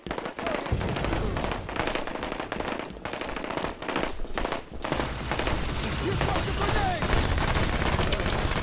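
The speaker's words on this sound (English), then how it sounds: "Throwing a grenade." A grenade thrown and exploding in Halo 5 amid a dense, continuous wash of crackling blasts and gunfire, loud throughout with a few sharp bursts standing out.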